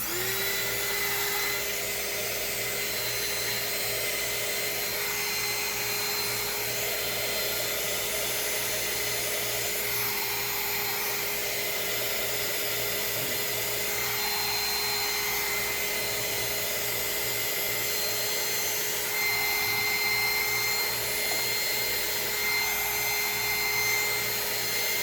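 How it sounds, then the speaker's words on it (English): Electric heat gun blowing hot air over resin, a steady whining hum with a constant fan roar that holds almost unbroken throughout, close and fairly loud. "And now I'm going to use my gun, my heat gun. I'm going to blow it a little bit."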